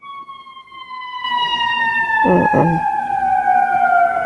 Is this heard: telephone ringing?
no